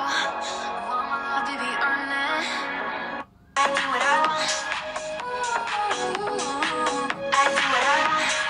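Music plays through the stereo speakers of a Nothing Phone 2 as an audio test, a full, busy mix that briefly cuts out near the middle before resuming at a steady moderate loudness.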